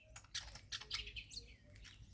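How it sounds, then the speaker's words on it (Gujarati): Small colourful African sparrows in blue, yellow, red and black chirp in a home garden, a cluster of quick bright tweets, some overlapping, at close to moderate distance. "રંગબેરંગી ચકલીઓ તમે જોઈ શકો છો, કેટલી સરસ આવી ગઈ છે અહીંયા"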